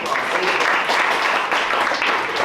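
Comedy show audience breaking into applause, a dense, even roar of many hands clapping throughout, loud and sustained with no distinct voices on top.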